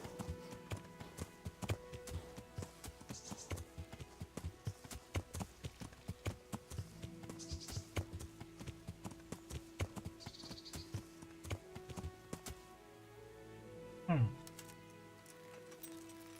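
Horse hooves clip-clop in a steady, quiet rhythm in the video game Kingdom Come: Deliverance, the hoofbeats continuing for most of the stretch before stopping near the end, with someone talking over them.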